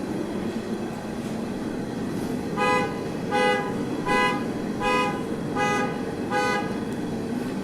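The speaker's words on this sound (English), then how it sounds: "my car alarm started going off" A car alarm going off: a steady run of about six evenly spaced, bright pulsed honks at moderate loudness over a constant background hum.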